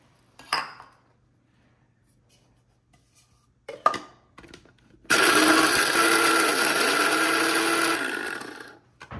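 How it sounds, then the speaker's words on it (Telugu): A mixer grinder grinds sambar masala spices in a steady, loud whir lasting several seconds, then winds down, after a few brief clatters of the jar and lid being handled. "ఇప్పుడు మనం గ్రైండ్ చేసేసుకుందాం."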